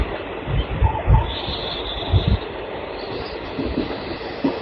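Indian Railways Amritsar summer special train passing at a crossing, a steady rumble of rolling wagons with rhythmic wheel thumps and clatter, continuous and fairly close, no talk.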